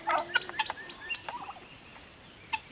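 Several short, sharp crowing-type calls from a bantam rooster close by, clustered at the start with one more brief call near the end, then quiet.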